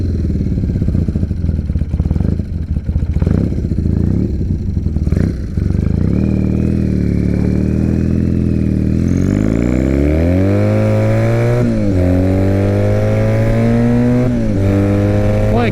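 A 2006 Triumph Bonneville motorcycle engine runs close by, idling unevenly at first, then revving and pulling through rising gear-change sweeps as the bike accelerates on the ride, loud and steady throughout.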